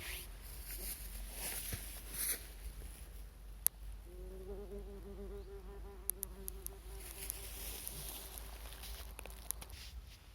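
Wasps fly near their burrow in a cool autumn forest, a close buzzing drone that swells for a few seconds in the middle over quiet outdoor ambience with occasional small clicks.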